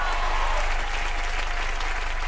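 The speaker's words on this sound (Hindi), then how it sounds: "जोरदार ताली होने हरमन भाई के लिए" A game show studio audience gives loud applause for a contestant. The dense, even clapping runs throughout, with faint voices mixed in underneath.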